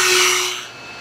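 A Dremel rotary tool enlarging a hole in a Hobie Outback kayak for foot-control steering, a brief high whirring grind close up that tapers off after a moment.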